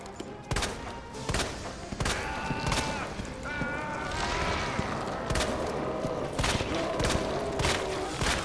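Gunshots ring out in Resident Evil 2 Remake, loud and close, fired one by one at a steady pace of roughly two per second over a busy game background.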